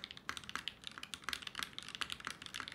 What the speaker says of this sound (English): I hear the characteristics of the switch because this is legitimately how they were sounding when I was testing them.